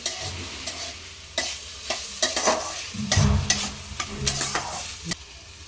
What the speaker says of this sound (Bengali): হালকা নাড়াচাড়া করে নেব